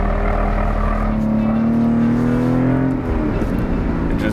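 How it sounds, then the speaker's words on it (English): Aston Martin engine droning loudly on a race track, a steady tone that climbs in pitch through a turn then drops off abruptly as the power fades, heard alone. "Do you think that Aston Martin ever thought they would sell a car that would sound like that and perform so poorly on a track?"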